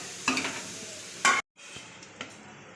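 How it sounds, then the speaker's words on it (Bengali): Carrots and beans for chicken chowmein fry in a pan, a low sizzle punctuated by a few sharp stirring scrapes and clinks, with a brief cut midway; no talking. "আমি গাজরটাকে আর বিনসটাকে একটু ভেজে নিলাম যাতে নরম হয়ে যায়"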